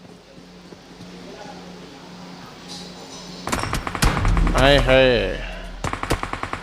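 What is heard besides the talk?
gunfire in PUBG video game, AWM sniper rifle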